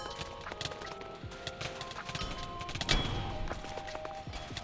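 Hooves of a horse clip-clop in a fantasy game, a steady rhythmic patter of hoofbeats mixed with other game effects and clicks, fairly close and moderately loud throughout.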